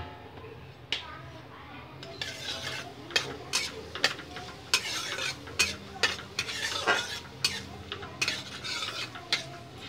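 Black cumin and dried chillies frying in hot oil in a karai, with a soft sizzle under repeated sharp scrapes and clinks of a spatula stirring against the pan, close and rhythmic.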